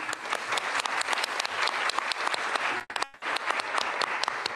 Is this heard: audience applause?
yes